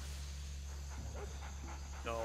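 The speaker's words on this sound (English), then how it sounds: "That's a dog." A dog barks in the stealth video game Splinter Cell, a few short yaps and a whine standing out over a steady low in-game hum, with a voice talking nearby.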